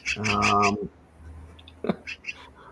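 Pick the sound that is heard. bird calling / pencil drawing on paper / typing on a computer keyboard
bird calling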